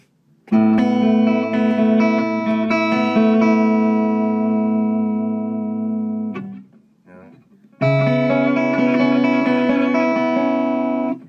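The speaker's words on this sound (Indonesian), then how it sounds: "Suara chorusnya itu suaranya kayak gini nih." Shimmering, sustained guitar chords with a wavering, doubled chorus sheen, ringing out, pausing briefly, then another chord rings in.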